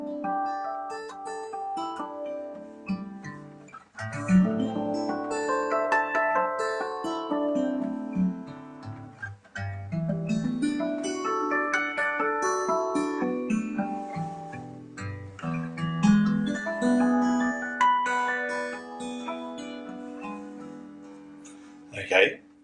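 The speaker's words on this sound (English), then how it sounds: "harp harmonics sound like this." Guitar harp harmonics fingerpicked as arpeggiated chords through a 2-5-1 progression, bell-like chiming notes rippling up and down in continuous flowing runs, close and clear with no talking.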